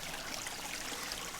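A woodland stream runs through a ravine, close by, giving a continuous even hiss of flowing water, steady in loudness without breaks.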